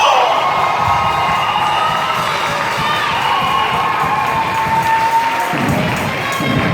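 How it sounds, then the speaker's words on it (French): Wedding congregation at a nuptial blessing cheering, whooping and shouting with joy, a dense continuous roar of many voices including high children's shouts, loud and close throughout. "Acclamez très fort le Seigneur. Give it up for the Lord. Poussez le cri de joie."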